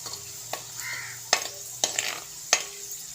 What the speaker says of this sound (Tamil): இந்த வத்தல் நான் வந்து எண்ணெயில் போட்டேன் இந்த குருத்தக்காளி வத்தலை